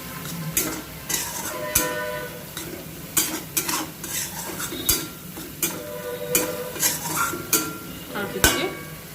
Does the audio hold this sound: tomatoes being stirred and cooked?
yes